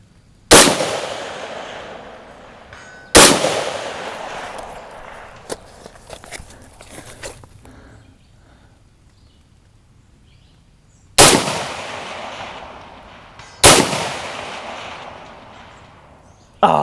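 Four sharp, loud 6.5 Grendel rifle shots fired outdoors at a distant 650-yard target, spaced irregularly, each with a lingering decaying tail, plus some faint clattering handling noises between them.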